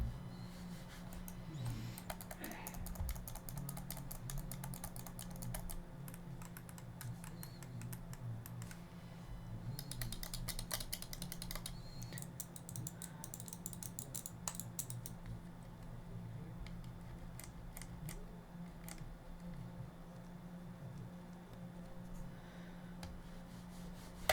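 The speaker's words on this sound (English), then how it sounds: "here's a little sound test between the two mouses" Button clicks from a Pulsar Xlite V2 medium gaming mouse, a dense run of sharp clicks and rattles close to the mic, mixed with keyboard-like tapping over a steady low hum.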